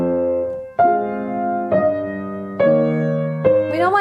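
Slow piano notes struck one at a time at an even, unvarying loudness, four sustained tones each left to ring before the next lands, clear and close with no talking.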